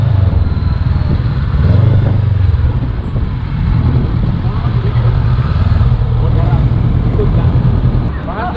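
A Honda X-ADV 750cc motorcycle on the move during a test ride, a loud, steady engine drone with heavy wind rush throughout, close and continuous.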